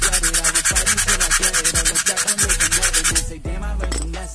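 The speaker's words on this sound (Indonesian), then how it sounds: "di sini kita amplas sedikit saja" Fast, rhythmic sanding strokes rasp back and forth against a disc brake pad, loud and close, then shift to a steadier grinding rub near the end.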